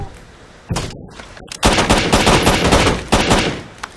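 Rapid automatic gunfire in Rainbow Six Vegas 2, set on rooftops, comes in loud close bursts: a short volley, a brief lull, then a sustained stream of shots and another burst near the end.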